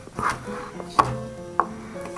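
A knife chops mushroom stems into small pieces on a cutting board for pork larb with glass noodles: a few crisp, close knocks spaced irregularly, with no talking.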